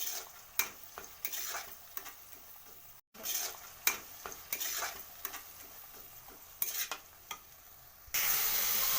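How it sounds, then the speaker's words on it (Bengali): Ghugni masala of cumin powder, sugar and Kashmiri chili powder stirred in a pan for a canteen-style dish, with repeated scraping taps of a spoon against the metal and a soft sizzle underneath, fairly close, with no voices. "তো এটা ভালো করে আমি নাড়িয়ে নেব।"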